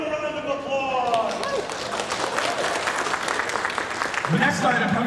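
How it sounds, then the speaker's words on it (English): Applause rises from the audience at a charity auction after an item sells, a moderate ripple of clapping mixed with loud chatter, whoops and voices close by throughout. "Give them a round of applause."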